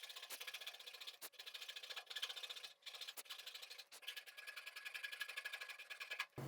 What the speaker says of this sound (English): So I'll start the cut at 90 degrees and then bevel the saw back